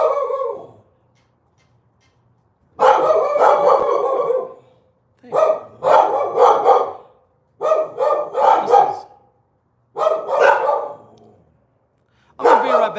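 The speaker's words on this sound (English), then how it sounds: "see what the hell they are barking at" Dogs bark in a handful of loud, close bursts, each a quick cluster of barks separated by short silences, with a brief human voice at the very start.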